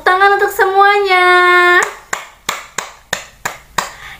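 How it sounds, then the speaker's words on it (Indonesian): A class of sixth-grade students clapping together, a voice holding a sustained tone before a series of sharp, evenly spaced claps in unison, roughly one every third of a second. "tepuk tangan untuk semuanya"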